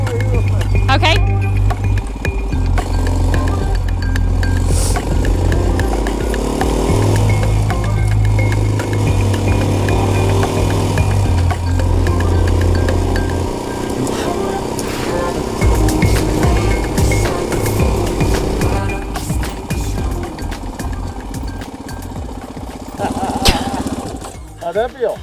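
Dirt bike ridden fast through sand in third gear, a loud close engine drone with shifting revs and rough bumps, a voice talking over it throughout.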